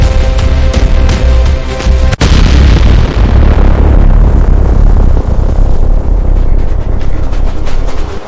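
A bomb blast: one sharp, very loud crack followed by a long, heavy roaring rumble that slowly fades, with no talk over it.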